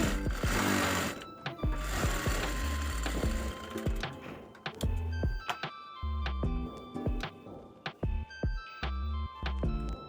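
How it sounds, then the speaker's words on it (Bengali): An electric sewing machine stitching the sleeve seam of a size-38 kameez, a fast steady mechanical clatter that stops and restarts in short runs with ticking pauses, close and loud with no voice over it. "এখন আমি হাতাটি সেলাই করে নিচ্ছি প্রথমে জোড়াটি দিয়ে নিচ্ছি"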